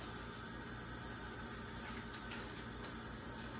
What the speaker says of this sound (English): So all I did was rinse them off like this.